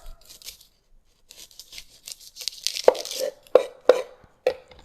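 A kitchen knife slices through an onion to trim off its blossom end. A few crisp, close cuts land on a board, separated by short pauses, with soft handling noise in between.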